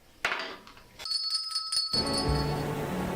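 A bright metallic bell rings once, its clear tone sustaining briefly before giving way to a muffled background hum.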